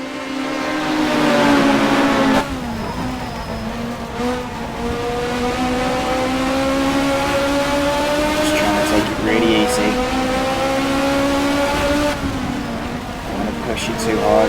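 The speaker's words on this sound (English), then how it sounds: "I do love the sound of this Toyota." A Toyota race car engine in the Race 07 video game revs loud and close, its pitch climbing and dropping through repeated gear changes, with other cars faintly audible around it.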